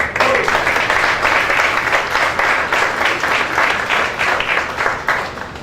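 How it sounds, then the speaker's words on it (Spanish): A church congregation claps together, loud and close, a rhythmic wash of many hands that holds strong before tapering slightly at the end. "Denle un aplauso al Señor."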